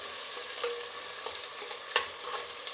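Onions frying in oil in a pan for Karnataka-style donne biryani, a steady broadband sizzle with occasional scraping stirs of a utensil, close and moderately loud, no voices.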